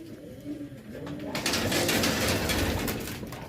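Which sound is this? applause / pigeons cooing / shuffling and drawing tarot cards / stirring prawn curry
pigeons cooing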